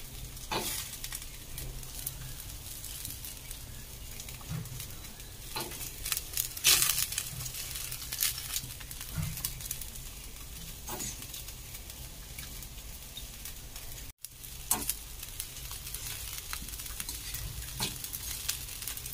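Peanuts frying in a pan give a steady, loud sizzle with crackling pops and occasional stirring scrapes, continuous and close throughout.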